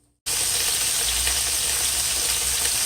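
Saltfish sautéing in a pan, a loud, close, steady sizzle that starts abruptly after a brief silence and holds evenly to the end, with no talking.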